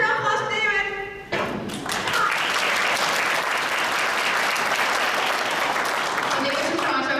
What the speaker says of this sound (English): It's your round of applause for David